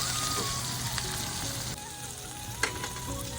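Onions sizzle and crackle steadily in a hot pan for a goat liver dish, a close, even frying hiss with light stirring scrapes and no voices.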